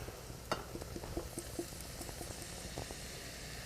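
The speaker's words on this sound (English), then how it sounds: "Now this gorgeous pan of chanterelles is now gonna go in, and we're just gonna saute them rather briefly" Chopped chanterelle mushrooms sauté in a pan with a soft, continuous sizzle and bubbling, broken by a few small pops and clicks, heard up close.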